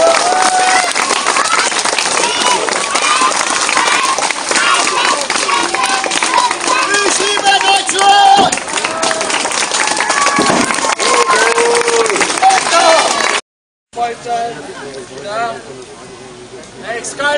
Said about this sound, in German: dann dürft ihr klatschen